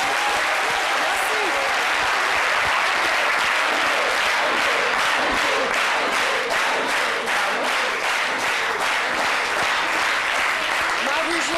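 Sustained audience applause at a televised midday show honoring a world athletics silver medalist, dense steady clapping filling the whole stretch without pause, loud and close.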